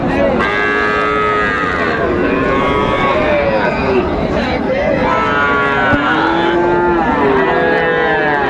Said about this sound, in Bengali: চমৎকার বাচ্চা, কোয়ালিটি সম্পন্ন বাচ্চা, ষাঁড় বাচ্চা।